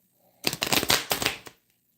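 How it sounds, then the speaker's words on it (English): Tarot cards being shuffled by hand, a close, dense burst of papery riffling and flicking lasting about a second, then stopping abruptly into quiet. "it's so hard with my arthritis to shuffle these cards"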